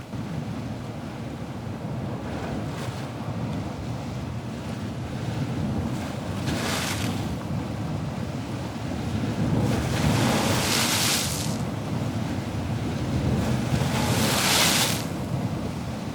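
Ocean waves wash against a fog-shrouded Maine lobster harbor before dawn, a steady rushing surf with stronger swells breaking every few seconds under gusty wind.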